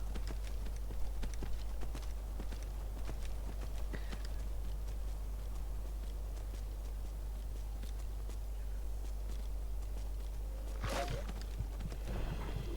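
Horse hooves clip-clopping in the video game Skyrim, a soft steady gait of repeated hoof falls running quietly through the whole stretch with a sharper burst near the end, no talk over it.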